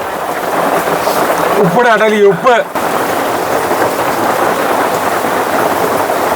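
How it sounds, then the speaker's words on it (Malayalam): Steady rain falling heavily outdoors, a dense, even hiss throughout, with someone briefly speaking over it partway through. "എന്തുട്ടാ മഴയായിരുന്നല്ലേ"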